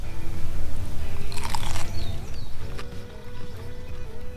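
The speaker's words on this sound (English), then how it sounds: "Let's see if they're crunchy." Loud crunchy bites into hot, crispy tacos up close, a sharp crackling crunch in the middle followed by steady munching.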